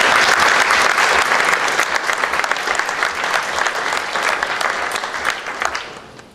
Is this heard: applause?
yes